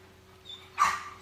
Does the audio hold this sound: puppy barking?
yes